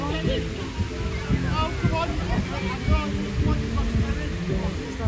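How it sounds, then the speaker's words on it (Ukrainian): Steady rushing water roars continuously like a waterfall, with a low rumble and a voice talking over it throughout. "А з іншого боку водоспад."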